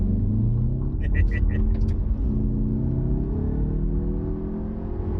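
A 2021 Mazda 3 Turbo accelerating hard during a test run, its engine note climbing steadily in a loud, continuous drone from inside the cabin, with voices exclaiming briefly over it.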